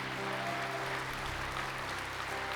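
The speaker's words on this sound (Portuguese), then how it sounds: "aplauda mais forte ao Senhor" A church congregation claps together during worship, a continuous, even wash of many hands applauding at some distance, with faint musical tones underneath.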